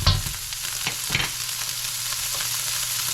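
Pre-cooked bacon crisps in a pan over high heat, giving a continuous close sizzle and spatter with a few brief scraping stirs.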